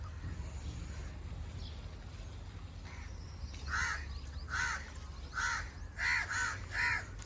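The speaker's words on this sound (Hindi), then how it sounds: "कौवे देखे ना कैं कैं कर रहे हो, बैठा है कौवा" Crows caw repeatedly over a low outdoor rumble, with several distinct harsh calls, some in quick pairs, growing clearer and closer toward the end.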